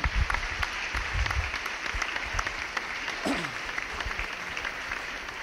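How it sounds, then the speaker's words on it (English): A room full of guests at a high school football banquet gives a sustained round of applause, a dense, fairly distant wash of clapping with a few scattered voices and a brief cheer rising above it. "give these guys and everyone in the room a good big round of applause"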